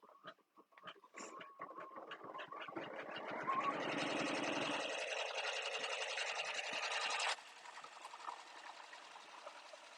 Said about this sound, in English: So now it's going to stitch an outline stitch to get that pocket stitched into place.